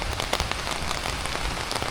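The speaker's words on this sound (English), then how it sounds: "It's raining, guys" Steady rain falls on a homestead, a dense, even hiss of drops with scattered louder patters, continuous and close, with no voices.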